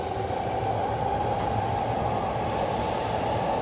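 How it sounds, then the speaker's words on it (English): A train runs along the tracks in Kanda, Tokyo, a steady loud rumble of wheels on rails with a thin metallic squeal rising partway through, continuous and fairly close. "Let's show the train tracks."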